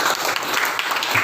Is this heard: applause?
yes